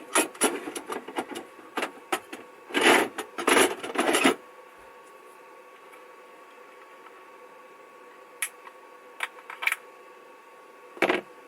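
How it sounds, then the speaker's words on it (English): A rubber tyre for a Tamiya XV01 RC car is cut up, producing close, scratchy rasping and rubbing strokes in uneven bursts, then a quieter stretch with a few brief scrapes. "we just need to cut this tyre up here."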